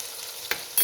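Masala with whole dried chillies and salt fries in a pan for a bhindi dish, a soft steady sizzle broken by one brief stirring scrape and a sharper burst at the end.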